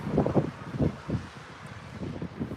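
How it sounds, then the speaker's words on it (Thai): Strong outdoor wind in Norway buffets a phone microphone in several loud, low gusts, roughly one every half second, with quieter rushing between them and no talking. "ลมจะพัดโทรศัพท์ ไปไหมเนี่ย"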